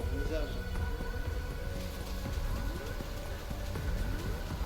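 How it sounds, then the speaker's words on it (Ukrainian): Heavy rain pours steadily in the video game Arma Reforger, a dense continuous hiss with game music and other sounds layered underneath. "Дощ, курва, заважає трошки."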